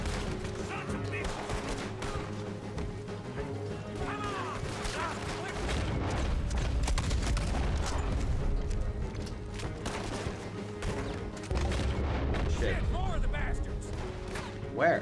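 Gunfire in a Red Dead Redemption 2 shootout: repeated sharp shots and impacts crackle over a dense mix of game sound and ambience, with loud bursts scattered through the span and louder stretches in the middle.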